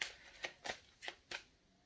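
A deck of tarot-style cards for an astrology reading is shuffled and cut, giving four or five crisp riffling snaps at uneven intervals, close-up and dry with no voice over them.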